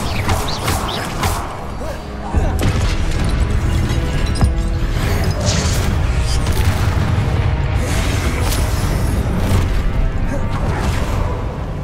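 Fire spell blasts booming repeatedly in the Hogwarts Legacy video game, loud crashing bursts over a dense battle soundscape against a boss, with a voice shouting spell names between the hits.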